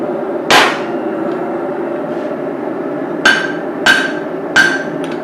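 Sharp metallic hammer strikes ring out while forging a small ball peen hammer, one blow early then three more in quick succession near the end, each bright and close over a steady background hum.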